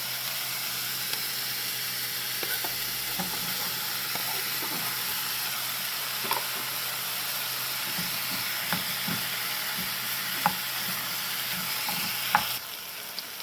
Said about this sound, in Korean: 고기가 반 정도 익었다면 아까 썰어두었던 감자도 함께 넣고 볶아줍니다.